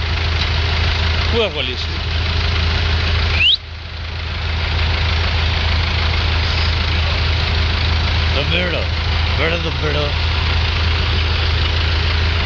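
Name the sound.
tractor engine idling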